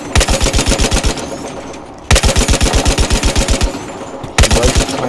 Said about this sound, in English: I was shooting the soldier.